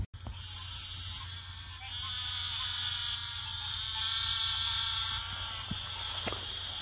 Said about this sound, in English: So that sound you hear calling over there, those are all eastern narrowmouth toads.